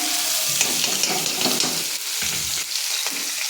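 Chopped garlic hits hot oil in a frying pan for a home-cooked potato and taro sabzi, giving a loud, continuous sizzle with faint stirring scrapes and no voices.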